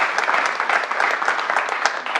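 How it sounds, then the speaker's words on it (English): An audience at a town state-of-the-town event claps steadily throughout, a dense, even wash of applause with no break. "Give them all a big round of applause, please."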